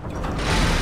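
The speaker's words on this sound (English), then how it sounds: "Ooh, heavy door." A heavy door in the video game Lies of P grinds open with a short mechanical ratcheting rumble that builds louder over under a second, close and with no voices.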